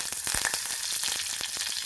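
Dried red chillies fry in hot coconut oil in a pan where mustard seeds have already popped, making a close, loud, steady sizzle broken by sharp crackles and pops.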